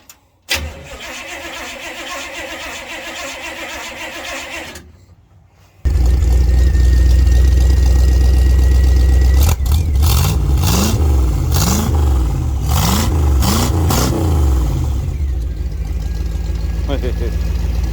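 A Jeep Wrangler YJ Unlimited engine cranks over after a short pause, catches and roars to life, then runs loud and close with several quick revs rising and falling.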